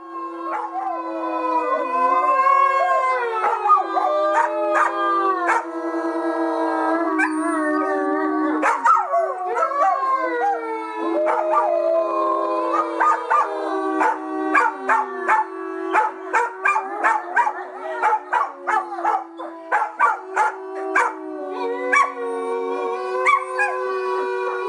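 A wolf pack howls in long, rising and falling tones that overlap and layer, loud and sustained, with the chorus breaking into shorter yips and choppy calls toward the end.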